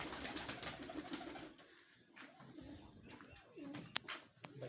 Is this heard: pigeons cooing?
yes